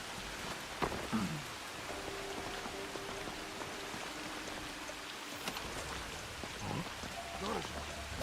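Steady rain falls across an outdoor scene in the video game Assassin's Creed Shadows, a continuous wash of drops with brief louder splashes and game effects mixed in.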